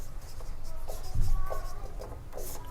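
Pen scratching across paper while a Class 12 maths derivatives problem is written out, close and continuous, with short strokes and pauses.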